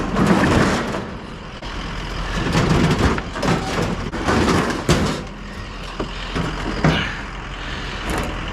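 A free Orbit city bus rolls past close by, with a loud heavy engine rumble and bursts of air-brake hiss and mechanical clatter rising and falling over several seconds.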